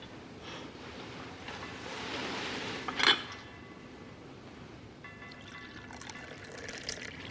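Hot water is poured in a continuous hissing stream for about three seconds, ending in a brief splash, followed by a quieter room tone with faint clinks and no talk.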